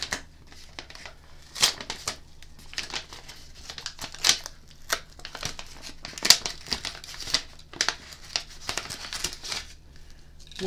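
A small paper envelope is handled and opened up close, with soft crinkling, rustling and papery tearing in irregular bursts, quiet throughout with no talking.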